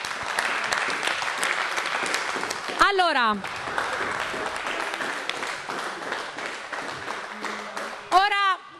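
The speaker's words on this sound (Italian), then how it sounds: "Bravo, e sono terzi, facciamo l'applauso." Applause from a gathered group at a rugby club event, steady clapping running under a speaking voice with brief whoops, someone talking over it.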